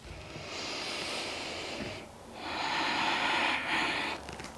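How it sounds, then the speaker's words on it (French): Deep, slow breaths during a stretching exercise: two long airy inhale-exhale swells, close and soft, separated by a brief pause, with no talking. "Encore 3 profondes respirations ici."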